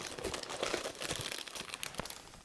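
Small sachets crinkle and rustle as they are handled, a soft, close, irregular crackling with a few sharper crunches and no voices.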